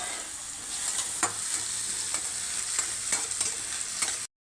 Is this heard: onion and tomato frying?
yes